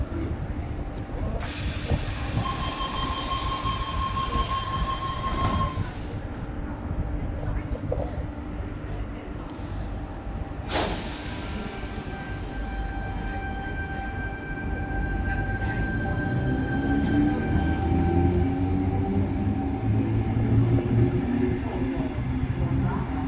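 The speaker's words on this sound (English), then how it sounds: "that was Tango Set T17 departing Ferry Meadow for a Port Kembla service" Tango Set T17 commuter train on the South Coast Line departing Ferry Meadow station, with a steady rumble and hiss, tonal whines and a brief horn-like tone, and a swelling roar as it pulls away.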